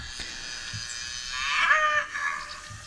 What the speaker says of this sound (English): I see a couple of wet cows over there